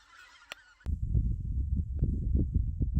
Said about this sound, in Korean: 조금 전 시끄러운 새소리는 기러기입니다